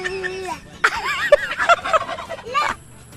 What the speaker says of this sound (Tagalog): ang sabi ng pabo